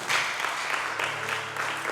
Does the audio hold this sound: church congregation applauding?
yes